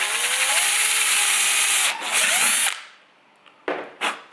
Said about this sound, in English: Just going to run the drill bit through and just clear those holes out.